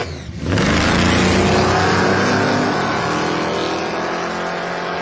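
A 1971 supercharged Chevrolet Nova and an Oldsmobile Cutlass at a drag strip race event erupt into a massive sustained engine roar that swells quickly and holds loud and heavy, a deep rumbling drone fading slightly at the end.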